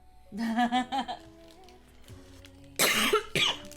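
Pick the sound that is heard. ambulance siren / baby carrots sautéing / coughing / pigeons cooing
coughing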